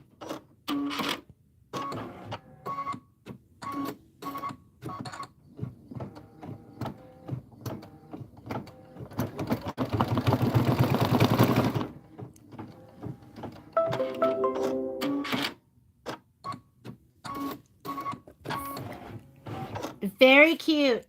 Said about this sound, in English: Next one, stitch the fringe flower centers.